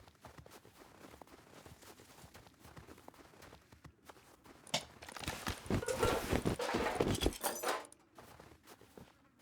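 Horse hooves clop in the survival game Rust, a soft footfall pattern that swells into a louder, busier stretch of hoofbeats and movement before fading again.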